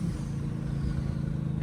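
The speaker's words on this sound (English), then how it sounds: "the turbo sounds wild, bro" A 1500bhp BMW M3 Competition idles with a low, steady engine drone and a faint higher whine above it, close by and unbroken over a brief stretch.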